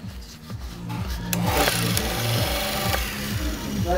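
Vikhr ESHM-125E random orbital sander runs, a close rhythmic mechanical whir with a pulsing low throb that rises and stays steady, no talk over it.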